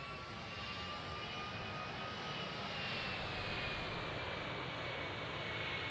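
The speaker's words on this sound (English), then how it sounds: "You hear the reverser sounds here, sound amazing." A McDonnell Douglas MD-11 in a flight simulator roars on landing rollout at Dublin airport as its thrust reversers deploy, a steady, loud jet rumble with a faint whining tone drifting slowly downward throughout.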